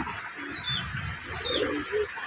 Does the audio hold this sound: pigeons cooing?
yes